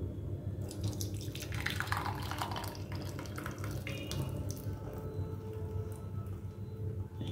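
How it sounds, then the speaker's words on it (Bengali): Freshly made tea is poured into a cup in a steady, close liquid stream that keeps going for several seconds, with faint handling noise and no talking. "চা হয়ে গেছে, তো চলো ঢেলে নিই।"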